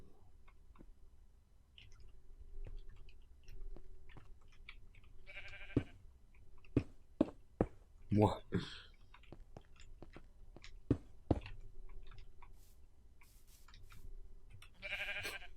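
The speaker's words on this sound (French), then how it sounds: "je zoome et je vois le mouton qui me regarde" A sheep in the Minecraft video game gives a couple of short bleats amid clicking and crunchy game sounds, fairly close, with one brief spoken word.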